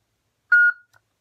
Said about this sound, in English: Press and hold, wait for 2 beeps,